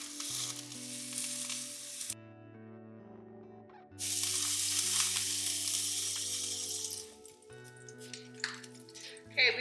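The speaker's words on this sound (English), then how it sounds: "I'm just searing it. I did not put enough avocado oil in." Meat searing in a little avocado oil sizzles steadily up close, the hiss swelling and dropping as it is moved, with a person talking and a background hum throughout.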